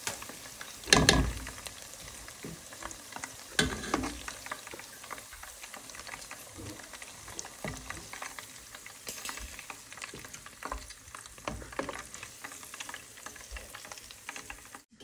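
Chicken pieces frying in hot oil for a home-cooked Chinese-style dinner: a steady, fairly quiet sizzle and crackle with a few louder spits and clatters early on, no voices.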